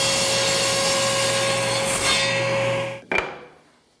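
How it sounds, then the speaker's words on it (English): A saw makes a 45-degree through cut in a wood box-making workpiece, a steady broadband cutting roar that runs for about three seconds, then stops abruptly with a sharp knock and a fading ring. "all I need to do is make a through cut at 45 degrees"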